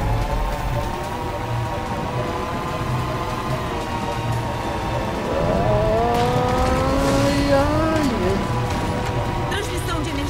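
A vehicle driving in Halo 4, a steady engine drone with rising whining tones as it accelerates midway, alongside background game noise and a voice talking over it.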